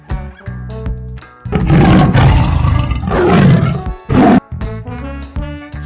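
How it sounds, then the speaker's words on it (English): A tiger roars in deep, rough bursts, loud and near, with a short final growl, heard over light background music and no talking. "Tiger."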